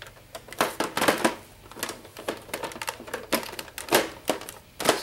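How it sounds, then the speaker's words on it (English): A Sega Genesis console is seated onto a Sega CD unit, its hooks snapping into the slots with a series of sharp plastic clicks and rattles, close and fairly loud, with no talking. "It should make a pretty positive clicking sound like that."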